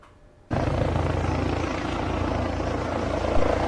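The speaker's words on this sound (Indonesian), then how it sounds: "Dengan menggunakan helikopter," A helicopter arriving for an official police visit in Empat Lawang, South Sumatra: a sudden loud, steady rotor and engine roar begins after a brief quiet moment and holds close and strong throughout.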